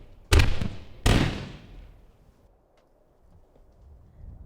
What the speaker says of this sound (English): Amy, relax. It's just fireworks.